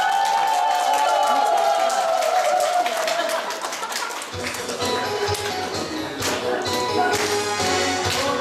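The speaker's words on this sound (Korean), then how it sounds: "큰 박수 한번 부탁드립니다" Applause and cheering from an audience at a nursing home performance by a Korean pungmul folk percussion troupe, a dense steady wash of clapping that stays loud throughout, with low rhythmic thumps entering partway through.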